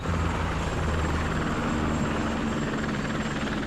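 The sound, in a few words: helicopter flying overhead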